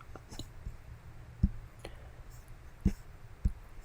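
Several sharp mouse clicks on a computer, including one on a next button, spaced irregularly over a quiet room background with no talk.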